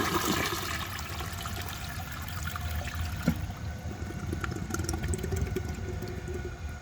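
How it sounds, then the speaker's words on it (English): A 1930 Eljer Sanus toilet flushes two washcloths, giving a continuous close rushing and gurgling of water that churns steadily, with a brief knock partway through and a thinner trickle toward the end. "It tried to take them right at the start of the flush, which is why it struggled slightly"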